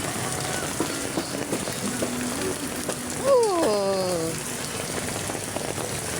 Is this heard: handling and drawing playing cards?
no